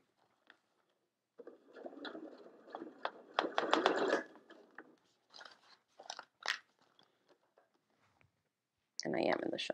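A sewing machine straight-stitching clear vinyl at a stitch length around 2.6 to 3 millimetres, with a dense run of rapid mechanical clicks that comes in short spurts, stops and starts, and ends with a brief final burst.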